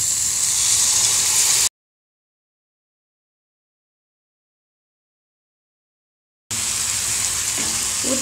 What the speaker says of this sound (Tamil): நம்ம எடுத்து வச்சிருக்க புளி ஊற்றிடலாம்